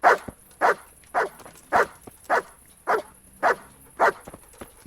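A dog barks in a medieval village in the video game Kingdom Come: Deliverance, giving about eight loud, evenly spaced barks close by with faint background ambience between them.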